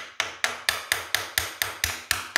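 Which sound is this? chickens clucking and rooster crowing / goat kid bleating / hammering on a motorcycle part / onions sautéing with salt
hammering on a motorcycle part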